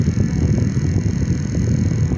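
Small HAS portable electric desk fan spinning at its highest speed, a loud, steady whooshing roar with rushing wind noise close to the microphone and no talking.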